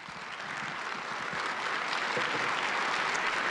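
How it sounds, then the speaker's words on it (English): A conference audience in Atlanta applauds its program chair, a dense, even wash of clapping that holds steady and swells slightly toward the end, with no voices over it. "Please give her a huge round of applause."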